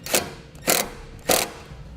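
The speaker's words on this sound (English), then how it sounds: "we'll use a 1/4 inch socket and tighten this down" A 1/4 inch socket ratchet tightens a hose clamp on a transmission cooler hose, giving three short, close clicking bursts spaced evenly apart with quiet gaps between them.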